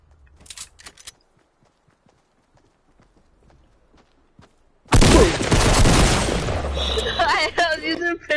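Rapid pistol shots ring out in a Fortnite Playground 1v1 match, quiet scattered pops at first, then a dense loud burst of gunfire and building clatter beneath excited talking.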